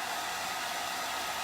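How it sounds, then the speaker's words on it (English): Hair dryer blasting steadily up close on a freshly painted layer, a loud, even rushing hiss of air with no pauses or voices. "now I am going to hit this with a dryer"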